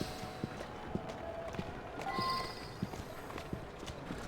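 Horse hooves clip-clopping at a steady walking pace in the video game Assassin's Creed Syndicate, quiet and fairly close, with faint background ambience.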